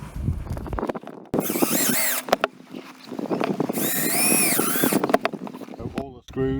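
A power drill whines in two sustained bursts as it drives screws through a roof while a MaxxAir MaxxFan roof vent is fitted, with short clicks and handling noises in between, close and loud.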